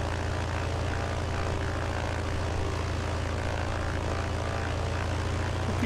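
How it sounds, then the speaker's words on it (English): A single engine of a BN-2A Mk III Trislander idles steadily in Microsoft Flight Simulator, a constant droning propeller hum with a low throb, loud and close with no talk. "We just got one engine on."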